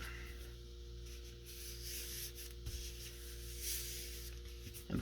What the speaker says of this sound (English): you're going to take your bone folder and burnish it down